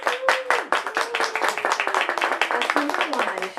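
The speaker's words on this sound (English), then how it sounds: "Can we have one more hand for Shelley Wong?" Audience applause follows a poetry reading by Shelley Wong, steady clapping from a crowd filling the room for several seconds while a speaker's voice carries over the top.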